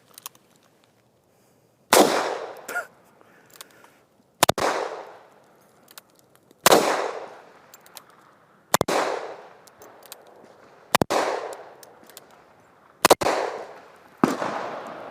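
Ruger Super Blackhawk .44 Magnum revolver fired seven times outdoors at slow, steady intervals of about two seconds, each shot a loud sharp crack with a ringing echo that tails off before the next.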